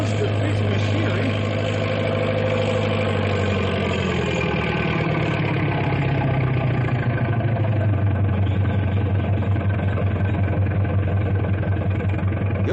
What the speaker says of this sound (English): That big double Caterpillar tractor is Big Brute. That is a monster piece of machinery.